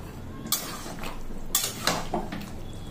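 Metal lid set onto a cooking pot of pulao, a few sharp clinks and scrapes of metal on metal spaced across a couple of seconds over a quiet kitchen background.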